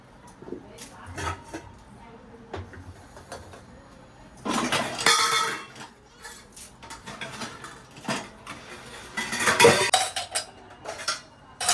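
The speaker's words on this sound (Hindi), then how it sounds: "फिर भी मैं बर्तन धो रही हूँ" Dishes, pots and utensils are washed in a home kitchen, with intermittent clinks, clatters of steel vessels and cutlery, and water splashing in bursts at close range.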